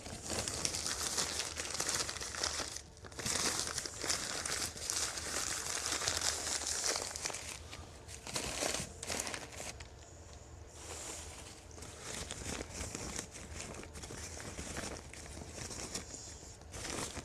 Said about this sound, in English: The white and the brown paper kind of makes different sounds.